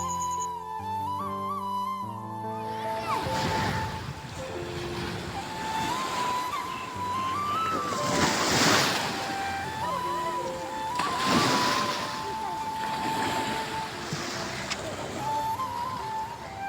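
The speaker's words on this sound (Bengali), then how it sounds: "এটা কিন্তু সমুদ্র, নদী নয়।" Sea waves wash ashore at Marina Park, a seaside park, with broad surging swells over a steady background roar, mixed with a melodic tune playing throughout.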